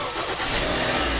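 A car engine turns over and runs inside the car, a steady close mechanical rumble with broadband noise lasting about a second, no voices.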